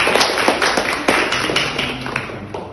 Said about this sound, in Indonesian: Kita beri aplaus dulu teman yang di depan.